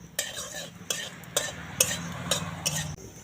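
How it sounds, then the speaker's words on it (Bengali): Black mustard seeds and a dried chili spluttering in hot oil, heard as a series of about six sharp crackling bursts roughly half a second apart over a faint low hum. "কালো সর্ষে আর লঙ্কাটা ভালোভাবে ভাজা হয়ে গেছে।"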